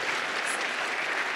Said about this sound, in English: we want a round of applause for our first-time speakers